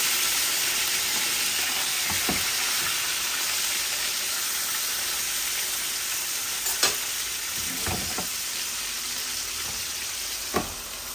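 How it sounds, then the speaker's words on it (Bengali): Tilapia fish pieces sizzle in a pan with onion as a spatula stirs them, a constant hiss of frying broken by several sharp scrapes and knocks against the pan; no talking. "এখন মাছগুলাকে একটু নেড়ে দিই।"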